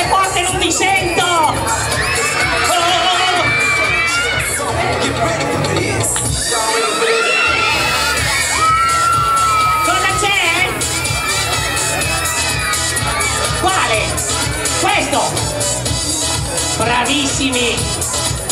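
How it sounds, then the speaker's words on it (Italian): A crowd of children shouts and cheers loudly at a live show at Tavullia's Il Castello Magico, sustained high-pitched yelling and whoops that swell and dip, with an adult performer's voice breaking in now and then. "Dovete urlare forte, non mi sento."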